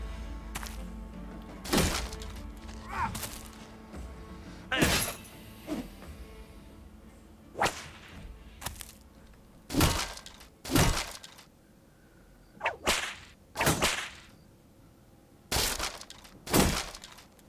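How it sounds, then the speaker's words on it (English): Heavy wooden shields are smashed during a medieval mercenary battle in the Battle Brothers video game, a series of sharp cracking thuds and splintering impacts repeating irregularly every second or two over a low steady background hum. "they're just smashing up our shields"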